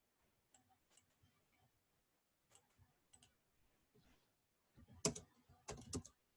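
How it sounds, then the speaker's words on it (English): Quiet, scattered keyboard taps early on, then denser bursts of fast typing clicks toward the end, close and crisp. "I'm typing it out or writing it out"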